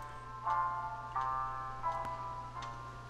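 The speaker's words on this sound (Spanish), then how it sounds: "Es como un sonido retro, estilo lofi." A soft retro lo-fi synth plays four repeated chiming notes at an even pace over a low, steady hum.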